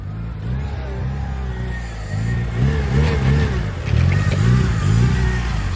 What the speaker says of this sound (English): I just heard my car roll up, and it sounded fucking nice